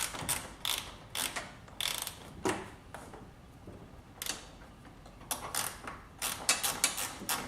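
A ratchet clicks in repeated rapid bursts while tightening radiator shroud bolts on a WJ Jeep Grand Cherokee, close up, with brief pauses between strokes.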